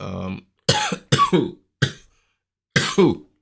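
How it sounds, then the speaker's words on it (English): A person coughs several times in short, sharp bursts separated by brief pauses, close and clear, with no talking. "That was just me coughing."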